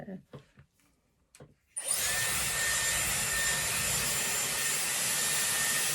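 A Dyson Airwrap hair styler on high speed and medium heat kicks on after a few soft handling clicks, then blows a loud, steady, close whooshing rush of air that holds without letup.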